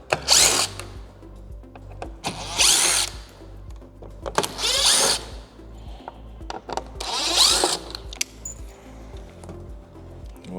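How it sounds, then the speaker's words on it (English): Power drill driving out the four screws holding a speaker in a Harley-Davidson CVO motorcycle, four distinct close whirring bursts separated by short pauses, with no talking. "Now we're going to remove our speaker by removing these 4 screws."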